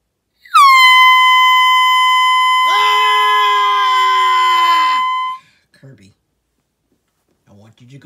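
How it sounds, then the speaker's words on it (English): An air horn blasts loudly and close for about five seconds, a steady blaring tone, followed by silence and faint scattered sounds. "Did I tell you to put the air horn up?"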